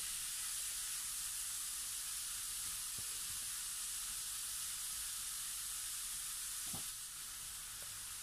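Ground pork sizzling in a pan for mapo tofu, a steady, even frying hiss running continuously with a few soft clicks of a utensil, close and alone without any voices.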